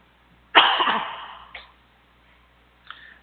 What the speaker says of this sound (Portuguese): Peço desculpa aí pela tosse.